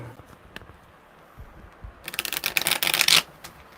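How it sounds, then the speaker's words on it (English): A tarot deck shuffled by hand during a live reading, with a few faint handling taps and then a close, crisp burst of rapid riffling card flutter that cuts off abruptly. "There we go, a good shuffle."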